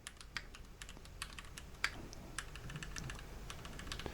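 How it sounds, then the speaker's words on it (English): Crisp keystrokes tapped on a Keychron Q6 mechanical keyboard at an uneven, relaxed pace, soft clicks with one sharper clack partway through. "listen to a few more keystrokes and you get an idea of how it sounds"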